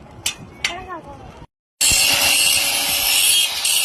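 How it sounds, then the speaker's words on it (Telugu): A grinder works over a welded piece for its final finish during welding work. After a few faint knocks and a brief silence, it starts abruptly with a loud, continuous high-pitched hiss that holds steady close by. "మొత్తం గ్రైండ్ కొట్టేస్తున్నాడు."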